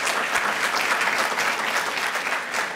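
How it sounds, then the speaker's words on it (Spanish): A church congregation applauds strongly during a sermon, a steady dense wash of clapping sustained throughout at an even, loud level with no speech over it. "Give that strong applause to the king."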